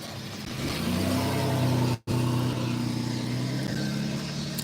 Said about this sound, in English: some reason there's like all kinds of traffic at the moment